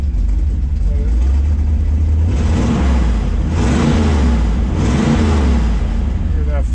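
A 1968 Pontiac Firebird convertible with a 400 V8 rumbling close by, a deep steady idle broken by several throttle blips and revs.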